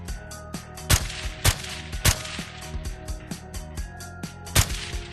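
Repeated gunshots in a shooter video game, loud sharp cracks roughly every half second with several louder blasts standing out, over a layered game background of tones and rumble.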